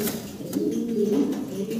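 Black checker mundi pigeons coo nearby, a soft throaty warbling call rising and falling over less than two seconds, close and fairly clear.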